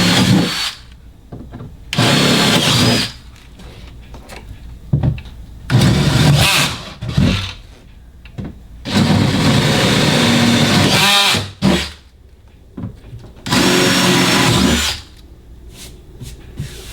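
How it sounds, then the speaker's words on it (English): A power drill drills out bolt holes for boat console fishing rod holders, whirring in repeated loud bursts of a second or two, separated by quieter pauses with clinks and handling noise. "I'm not going to drill those out, but I'm going to drill the other 3 out."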